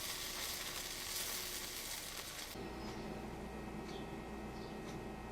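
A grilled cheese sandwich fries in a pan, a steady close sizzle that hisses broadly at first, then drops to a quieter crackle over a low hum with a few faint ticks, no talking.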